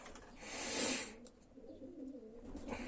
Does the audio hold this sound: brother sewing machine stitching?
no